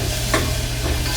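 Onion fries in a pan, a steady close sizzle with a soft stirring scrape partway through.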